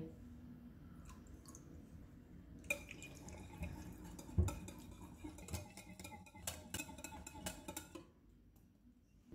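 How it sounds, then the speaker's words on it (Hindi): Milk is poured into yogurt and whisked for raita: a faint, quiet liquid trickle gives way to light clinks and rapid tapping of a utensil against a bowl, then a near-silent end. "दही में दूध डालेंगे और फेंट लेंगे।"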